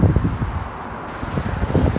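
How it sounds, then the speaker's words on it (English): Strong wind at a colliery memorial on an open roadside, buffeting the microphone in low rumbling gusts that roar steadily throughout, close and loud with no voices. "It's very windy though, so I'm down behind wind."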